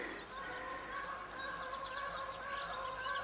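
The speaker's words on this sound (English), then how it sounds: "we got some geese decided to have a test flight" A flock of geese honks continuously overhead above the River Wye, many overlapping nasal calls at moderate distance against a low background rumble.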